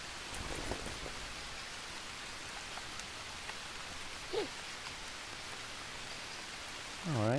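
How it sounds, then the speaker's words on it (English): Rain in Green Hell falls as a soft, steady hiss of drops, faint and continuous, with a brief tonal blip midway and a sweeping sound rising at the end. "we'll take advantage of the fact that it's raining right now"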